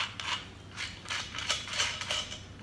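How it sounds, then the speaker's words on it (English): Spanner loosening nuts from the top end of a Racold water geyser during home servicing, heard as repeated close metallic clicks and scrapes in several short bursts. "The next step is to remove all these nuts from the top end of the"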